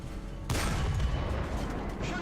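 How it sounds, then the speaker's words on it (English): A tank cannon blasts at a Panzer IV in War Thunder, with a sudden heavy boom followed by a sustained rumbling roar of engine and battle noise. "let's just fire at this Panzer IV here"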